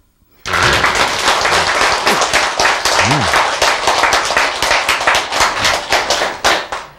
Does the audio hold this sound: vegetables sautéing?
no